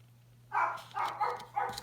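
A dog gives three short barks in quick succession, fairly close, over a quiet room with a low steady hum.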